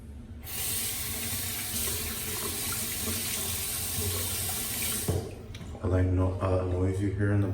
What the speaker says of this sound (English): Noise you hear in the background